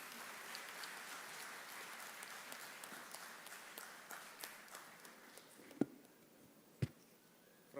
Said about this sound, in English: Please join me in welcoming him with a big round of applause.